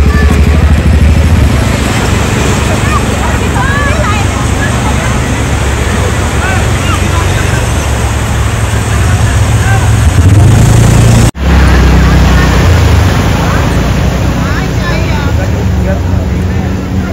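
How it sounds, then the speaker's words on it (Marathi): Loud, continuous engine roar of a speed boat near Colaba fort in Alibag, with rushing wind and water noise that barely changes through the ride, broken once by a momentary cut. "स्पीड बोट आहे"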